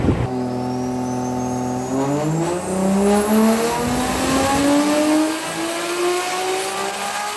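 A turbocharged 1JZ engine in a Nissan S13 revs steadily upward in pitch on a dyno, rising through the gears with a loud, rough roar and a faint high whine above it.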